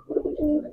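Ablu pigeons coo close and clear in a colony, several throaty rolling pulses in quick succession with no talk.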